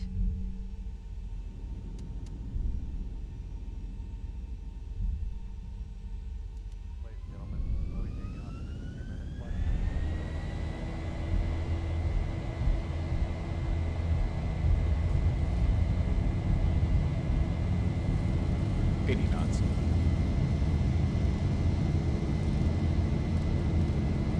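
Boeing 737-800 in X-Plane 11 on runway 04R at Chicago, engines spooling up from a steady idle whine into a loud, rising roar and rumble that holds strong through the takeoff roll.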